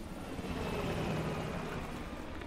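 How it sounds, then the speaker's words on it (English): A helicopter getting away during a rooftop chase in Call of Duty: Black Ops Cold War, its steady rotor and engine roar holding at moderate loudness throughout with no talk over it. "The chopper got away."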